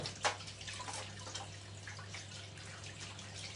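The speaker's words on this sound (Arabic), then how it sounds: "واغسل ايدي" Warm water runs softly from a tap for hand washing in a steady, faint stream, with a low hum underneath and no voices.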